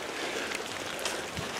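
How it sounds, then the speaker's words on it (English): Steady rain hisses evenly in a close, continuous wash, with scattered drops pattering on a surface and no voices. "as you can see, it's raining"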